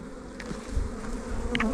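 Honeybees around a beehive hum in a close, continuous drone with a few louder buzzes as bees pass near, and no voices.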